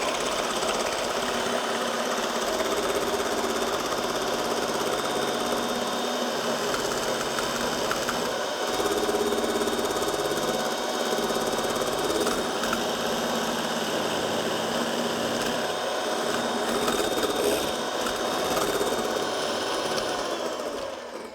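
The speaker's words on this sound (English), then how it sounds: "So we start mixing. I'll use the mixer." An electric mixer whisks egg whites in a bowl, a steady, loud motorized whirring hum that runs continuously with slight rattling, and no talk.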